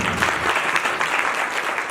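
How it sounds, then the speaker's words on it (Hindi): Congregation at a church service applauding together, a steady dense wash of clapping that holds loud and even throughout with no voices over it. "जोरदार ताली बजाएं।"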